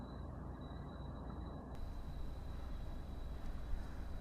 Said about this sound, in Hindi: थोड़ा एसी चल रहा है, पंखा भी ऑफ कर रखा है